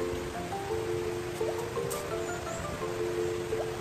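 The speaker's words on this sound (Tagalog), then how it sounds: "Sobrang lakas ng ulan." Heavy rain pours steadily on a farm, a dense, even hiss with faint tonal sounds threading through, no voices.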